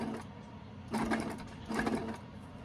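A sewing machine has its needle cranked down by hand while a potholder is being sewn, giving soft mechanical whirring and clicking in two brief bursts over a steady low background.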